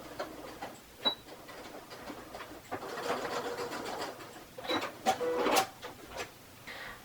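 A sewing machine backstitches a dress seam with quick, uneven bursts of close mechanical chatter, pausing briefly between runs.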